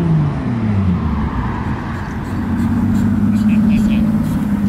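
A turbocharged Toyota Supra engine revs close and loud, its pitch rising and falling, while voices talk over it.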